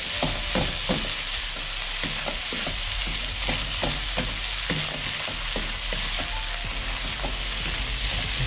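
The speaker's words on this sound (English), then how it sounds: "bean sprouts go in, and the chives. Just a quick 30 seconds or so in the pan." Bean sprouts and chives stir-fry in a hot pan for char kuay teow, a steady loud sizzle broken by repeated sharp scrapes and clacks of a spatula tossing the noodles.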